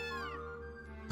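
A cat meows once in the video game Gravity Rush, a single drawn-out, falling tonal mew over a quiet game backdrop, followed by a brief soft noise at the end.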